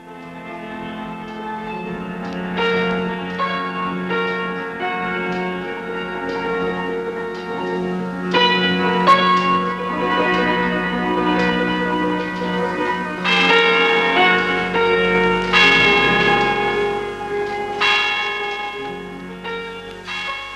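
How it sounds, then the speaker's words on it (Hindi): Distant clock tower bell tolling the midnight hour, a series of resonant, overlapping strikes with long ringing decay, sustained and rich against a quiet night setting. "दूर कहीं घंटा घर में 12 के घंटों की आवाज।"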